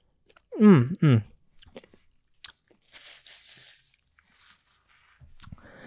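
Crunchy snack balls being chewed close to the mouth, with a few loud crisp crunches early on followed by softer, scattered chewing and mouth sounds, and a short voiced sound near the start.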